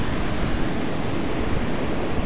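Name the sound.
ocean waves on the Gulf beach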